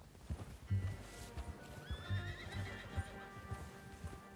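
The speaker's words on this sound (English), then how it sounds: "Get that horse in line, Arthur." A horse whinnies loudly in Red Dead Redemption 2 while hooves clip-clop irregularly underneath, close by, with a faint steady background hum.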